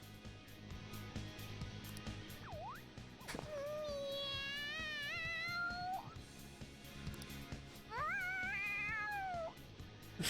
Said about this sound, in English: you make very cat-like noises